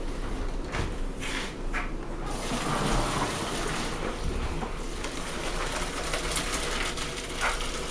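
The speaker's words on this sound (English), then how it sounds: "now that the pasta's done, we're going to drain it in this colander" Hot water from a pot of cooked pasta pours through a colander into a kitchen sink in a loud, continuous gush with splashing, close by and without voices.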